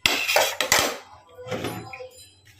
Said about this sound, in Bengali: সাদা বাসন মাজতে বেশি সময় লাগে না